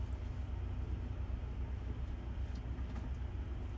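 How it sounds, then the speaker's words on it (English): Dozens of trucks idle across a truck stop with their engines and generators running, blending into a constant low, droning rumble that is faint and distant and never lets up. "there's no fewer than 75 trucks scattered about in this area, and they've all got their engines running or their generators running"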